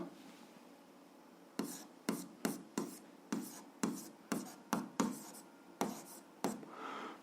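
Pen scratching on paper while solving an algebra exercise, a steady series of about a dozen short strokes at close range after a quiet start, with no voices.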